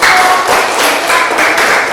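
Classmates in a school classroom clap together, a loud, close burst of hand clapping that stays busy and uneven for about two seconds.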